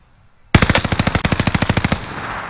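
Rapid automatic gunfire in a video game, a loud burst of about fifteen evenly spaced shots lasting roughly a second and a half, close and alone without talk.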